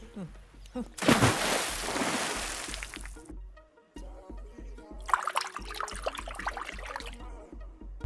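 An object is thrown into water and lands with a loud, abrupt splash. Rushing, sloshing water follows for a few seconds, then a second surge of splashing and churning water.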